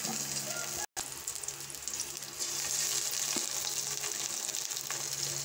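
Shrimp hitting a hot pan of garlic and onion, a loud close sizzle that briefly cuts out and then returns stronger and continues steadily, with faint stirring.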